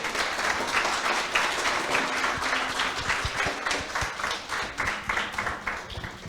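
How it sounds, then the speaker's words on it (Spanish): A congregation gives a loud, sustained round of clapping at a church gathering, dense and continuous at first, then thinning into more distinct, rhythmic claps toward the end. "Denle un fuerte aplauso al Señor."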